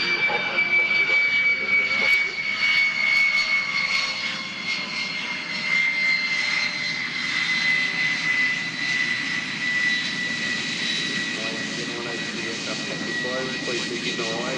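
A powerful aircraft engine taxis past an air show crowd, a loud, steady jet-like roar with a high whine that holds throughout; a faint voice is talked over it.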